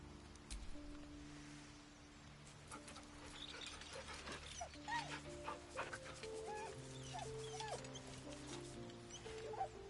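A dog in Baldur's Gate 3 barks, yips and whimpers in short repeated bursts over a steady, tonal in-game music bed, moderately close and without talk.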